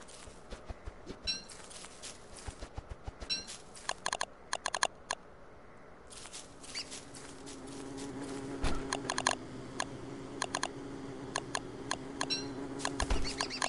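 Bees from the video game Don't Starve buzz in short, scattered bursts over close, rapid keyboard typing, with a low steady game hum building toward the end.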